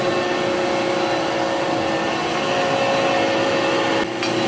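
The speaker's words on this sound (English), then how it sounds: "So the fluid is coming through that pump, all through the lines, through this drive pump here." A large shop machine's hydraulic pump runs steadily, pushing fluid through its lines and drive pump; a constant, loud mechanical whine and hum with steady tonal lines, briefly dipping near the end.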